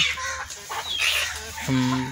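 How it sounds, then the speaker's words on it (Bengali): Chickens cluck in bursts while being fed paddy rice, close by and fairly loud, with a few sharper calls near the end. "মুরগিকে ধান খাওয়ানো হচ্ছে।"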